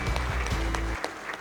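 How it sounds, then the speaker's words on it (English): An audience at an alumni celebration in a senate hall claps briefly, with scattered close claps over a low hum that cuts off partway through. "A big round of applause for him."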